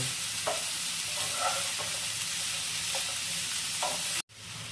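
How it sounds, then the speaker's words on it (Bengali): Ash gourd and potatoes stir-fried in a pan: a constant close sizzle with a handful of scraping spatula strokes, ending abruptly. "চাল কুমড়োটাও খুব ভালোভাবে এই আলুর সাথে কষিয়ে নেব"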